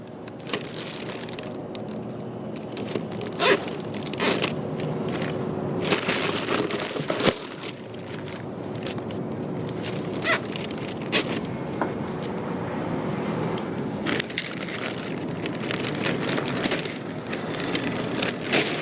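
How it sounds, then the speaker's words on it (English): Plastic vacuum bag on an ASL 1103PS HEPA vacuum with pre-separator being crinkled, zip-tied and cut, a steady close rustle with sharp ticks and snips throughout. "you simply put your 2 zip ties on and then cut between the center"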